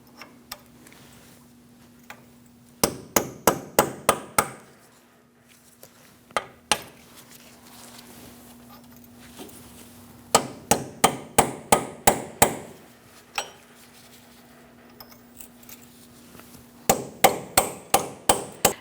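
A hammer strikes a punch to unpeen the axle nut on a 2012-2020 Chevrolet Sonic, sharp metallic blows landing in three rapid bursts of about eight to ten hits each, loud and close, with a faint steady hum between bursts.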